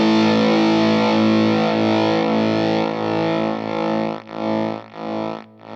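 A thick, fuzzy electric guitar chord through a fuzz pedal sustains loudly, then breaks into choppy, sputtering pulses as it decays.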